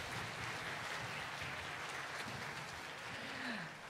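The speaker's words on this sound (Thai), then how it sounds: "ปรบมือให้ทุกท่านนะครับ" A crowd applauds steadily at the close of a live concert by a university wind band and a rock group, a dense, even patter of many hands lasting a few seconds with no one speaking.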